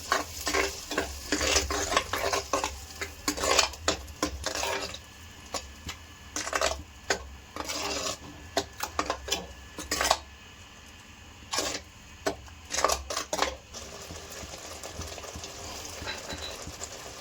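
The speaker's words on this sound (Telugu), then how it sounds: "ఇప్పుడైతే మనం ముందుగా పట్టేసుకున్న టమాటా పేస్ట్ కలుపుకుందామండి గట్టిగా" Tomato paste being stirred into a masala in a pan for a Kodiguddu egg curry, a spoon scraping in repeated bursts over a soft, steady sizzle that trails off near the end.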